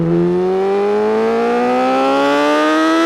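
A 2020 Yamaha R6 sport motorcycle engine is held at full throttle, its loud, close howl climbing steadily in pitch as the revs rise through second gear, with no break or gear change.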